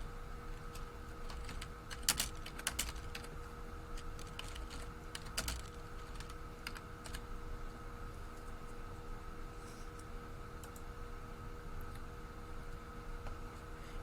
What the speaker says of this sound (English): If I left-click on this, I can simply type in whatever I want.